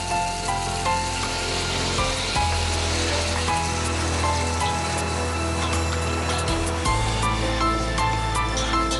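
Boiling water added to a hot, thick-bottomed pan of spicy chicken rice, producing a loud, continuous hissing sizzle with splashing, close and alone without talk.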